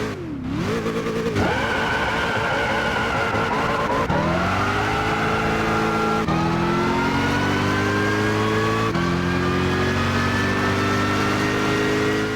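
A car in the racing game Gran Turismo 6, set up as a touge build, launches hard off the line with wheel spin: a loud, continuous engine roar climbing through the gears with steady tire squeal throughout.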